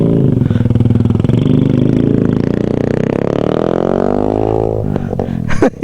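Motorcycle engine labouring up a steep mountain road between Atok and Tinoc, a loud, close, continuous drone whose pitch gradually rises, then drops away with a few clattering knocks at the end.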